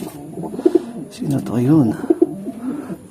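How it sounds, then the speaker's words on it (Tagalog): Racing pigeons cooing in a loft after returning from a 185 km training flight, with repeated soft, close coos in a steady rhythm while a person speaks briefly over them. "Ito, kompleto ibon natin mga kalapatids."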